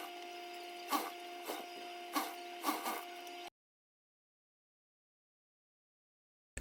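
A sewing machine stitches a hijab cap, running close with a steady whir and a few rhythmic thumps before cutting off abruptly into silence.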